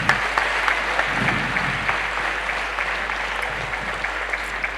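Audience applause at a national vegetarian conference, a steady sustained clapping from a crowd filling the whole stretch with no talk over it.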